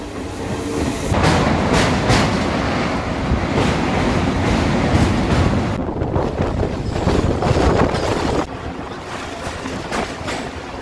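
A Medinipur local train rolls steadily across a river bridge, with loud continuous rumble and clatter, heavy wind buffeting the microphone, and a brief drop in noise near the end.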